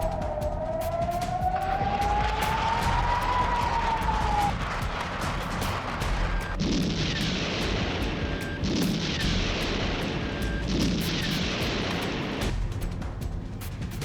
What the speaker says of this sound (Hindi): वहां लगातार गोलीबारी और बमबारी हो रही है